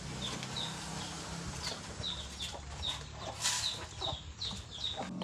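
Chickens clucking on a home farm, repeated short calls scattered over steady background noise at moderate, fairly close distance, with no talking.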